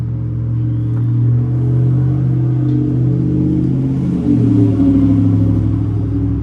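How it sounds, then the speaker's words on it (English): Loud car engines rumble by outside in a heavy, continuous low roar that swells again near the end as another vehicle revs past. "Loud cars."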